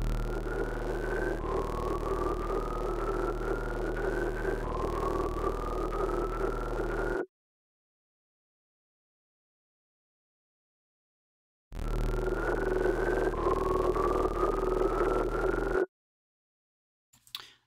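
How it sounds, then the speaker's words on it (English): A creepy monster sound built in the Phase Plant synthesizer: two loud bursts of growling, droning tone with rising wails layered on a deep hum, separated by silence and ending with a faint trailing flicker. "Yeah, that's definitely a creepy monster."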